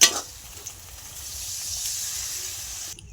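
Poppy seeds fry with ivy gourd (kundri) in a pan, giving a steady close sizzle and hiss that swells slightly before cutting off near the end.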